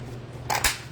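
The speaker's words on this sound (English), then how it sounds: "I'm going to cut out with this punch just" A paper punch snaps through card to cut out a small circle, two quick crisp clicks close by in a quiet room.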